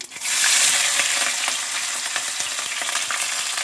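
Small shallots frying in hot oil with mustard seeds and fennel seeds for a chicken masala gravy, a loud steady crackling sizzle with scattered pops and light stirring clicks throughout, no voices.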